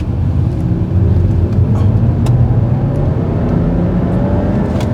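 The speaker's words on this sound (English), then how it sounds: "The way this car launches is very, very seamless." A BMW E90 328i with an inline-six engine launches from inside the cabin, a loud, smooth low engine drone with steady road and wind rumble throughout, and no voices.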